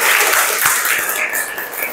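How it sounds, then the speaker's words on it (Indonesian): Classroom applause for a student group, a steady wash of clapping hands sustained throughout at close range. "Tepuk tangan untuk kelompok 3."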